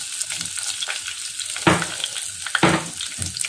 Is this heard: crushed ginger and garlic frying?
yes